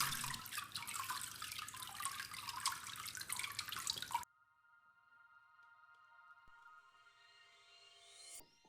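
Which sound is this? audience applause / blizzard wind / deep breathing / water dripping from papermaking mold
water dripping from papermaking mold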